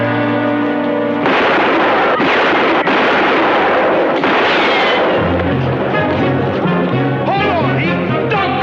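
Gunfire erupts in a tense confrontation, with loud, dense blasts and bursts filling the scene alongside music and commotion, sharp reports breaking through repeatedly over several seconds.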